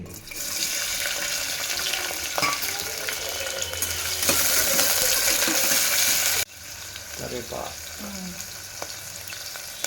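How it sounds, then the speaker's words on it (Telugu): Onions and green chillies fry in oil in a pressure cooker, giving a steady close sizzle with occasional clinks of stirring throughout. "కుక్కర్ పెట్టుకొని కొంచెం నూనె పోసుకుందాం కొంచెము రెండు ఉల్లిగడ్డలు రెండు పచ్చిమిరపకాయలు"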